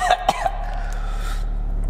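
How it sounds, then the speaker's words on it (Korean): A person coughs from a strong garlic smell, two or three short, close coughs at the start, then a steady low engine-like hum carries on alone. "너무 강력해서요 지금 기침이 나오는데요"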